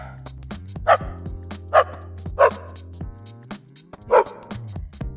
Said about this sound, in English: I now have a singing dog that I can play like a piano.